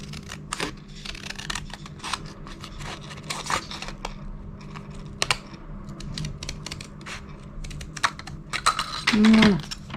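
Scissors cut paper and card for steampunk junk journal pockets, a series of short crisp snips and rustles at close range over a faint steady hum, with a brief tonal whir near the end.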